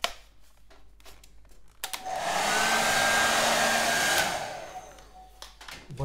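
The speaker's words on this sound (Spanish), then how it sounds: "Con lo cual, vuelvo a coger el secador." A hair dryer blows hot air over a layered mountain painting, switching on after a couple of seconds, holding a steady loud roar for about two seconds, then cutting off amid faint handling noises.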